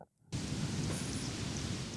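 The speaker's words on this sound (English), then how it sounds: "I wish I had a chainsaw sound effect. I got heavy rain." Heavy rain pours in a steady, dense wash of hiss after a brief silent opening, loud and unbroken with no voices.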